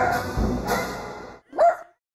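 A pet dog gives a few short barks and a whining cry at close range, followed by a brief pause and one sharper bark.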